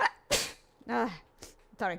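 A person gives a sharp, close sneeze in a loud burst, surrounded by short spoken exclamations and a brief apology.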